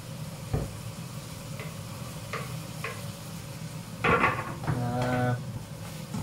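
Cubed potatoes tumble into a pan of cooked chicken for a Thai green curry, setting off a brief clatter and then a louder burst of sizzling and stirring, with quieter utensil knocks beforehand.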